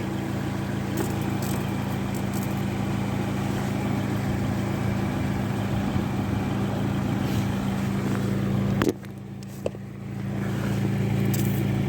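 A car engine idling while mineral-oil rust-inhibitor undercoat is sprayed under the vehicle, a steady close low hum with spray hiss bursts and a brief break near the end.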